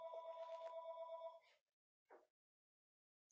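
A landline telephone in a home studio rings with a steady electronic trill for about a second and a half, then gives one short partial ring before cutting off, fairly faint and with no talking.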